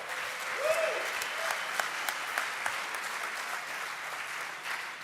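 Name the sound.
audience applause for a conference speaker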